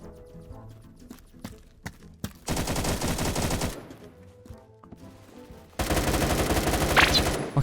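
AK12 rifle fire in the Roblox shooter Phantom Forces, two sustained full-auto bursts of about a second each, loud and close, separated by scattered single shots and faint game noise.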